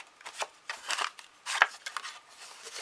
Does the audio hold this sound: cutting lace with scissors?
yes